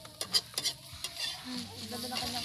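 Omelette street food cooks in a pan outdoors, with a few sharp clicks of a utensil scraping and tapping the pan followed by a soft continuous sizzle, close and fairly quiet.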